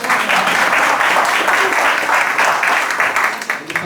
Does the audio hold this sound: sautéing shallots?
no